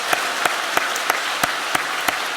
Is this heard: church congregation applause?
yes